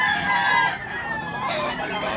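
A rooster crows loudly and close by, one drawn-out call filling the short clip.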